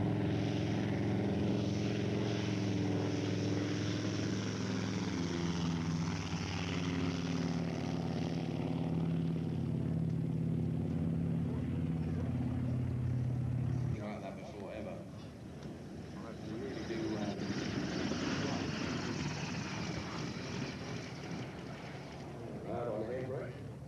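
Propeller warbird aircraft flying in at an airshow, a steady droning engine hum that shifts in tone partway through, with a voice talking over it.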